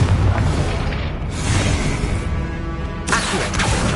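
Confringo fire spell striking in a Hogwarts Legacy battle, a loud booming blast with broadband burst around the middle, followed by a second sharp impact near the end over continuous game ambience.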